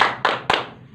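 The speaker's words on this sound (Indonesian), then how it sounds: "Ya, tepuk semangat, Bu. Tepuk semangat." A group claps out a quick rhythmic cheer clap in a classroom-style session, three crisp, loud, evenly timed claps in rapid succession.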